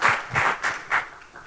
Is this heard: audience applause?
yes